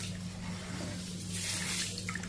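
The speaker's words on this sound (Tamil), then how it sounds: "இதையும் தண்ணி ஊற்றிட்டு நல்லா பிசைஞ்சு விட்டு நல்லா பிசைஞ்சு விட்டு நம்ம இதை கழுவணும்." Finger millet (ragi) is washed and kneaded by hand in water, giving soft swishing and sloshing sounds with a few small splashes, close and fairly quiet over a low hum.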